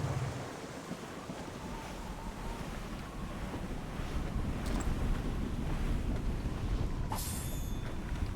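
In the Assassin's Creed Rogue video game, blizzard wind and ocean waves roar together at sea, a broad steady rush that swells louder through the second half, with no voices.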